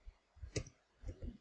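A computer mouse clicks a few times, with short sharp clicks spaced irregularly, fairly faint and close, with no talking.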